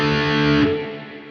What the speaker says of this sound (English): So that's the prominent reverb that you hear.